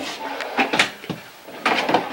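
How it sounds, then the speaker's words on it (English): Soft-close drawers slide shut inside a 2020 Forest River Flagstaff Classic Super Lite 832OKBS travel trailer, giving a few muted wooden thuds and rubbing sounds, close and moderately loud. "Again, soft latch drawers."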